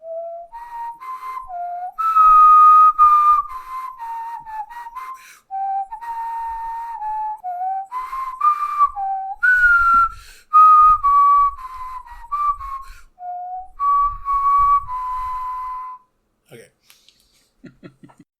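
A person whistles a meandering melody for about sixteen seconds, with a few soft chuckles and small noises mixed in before it trails off.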